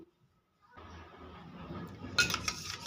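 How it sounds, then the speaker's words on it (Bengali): A spoon stirring ground melon seeds into full-cream liquid milk for a stuffed pointed-gourd dish, heard as steady scraping and clinking against a bowl after a quiet start, growing louder and busier near the end. "একটা চামচ দিয়ে আমি খুব ভালো করে মিশিয়ে নিয়েছি"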